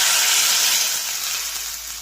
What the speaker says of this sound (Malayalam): ഇനിയും അരച്ച് വെച്ചിരിക്കുന്ന ചമ്മന്തി വെള്ളം ചേർത്തതാണ് ഒഴിച്ച് കൊടുക്കുന്നത്.